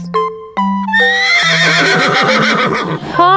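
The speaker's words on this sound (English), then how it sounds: "Horse." A horse gives a loud, close, shrill whinny that quavers for about two seconds over a simple melodic backing in a children's farm-animal song.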